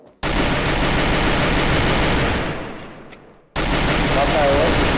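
Dense automatic gunfire from the video game Free Fire, loud and continuous, fading out for a moment before another loud burst starts up.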